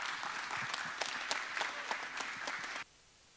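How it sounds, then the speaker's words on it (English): Audience applause for a conference speaker fills a hall as a dense wash of clapping with scattered louder claps, then cuts off abruptly near the end. "Give him some clap."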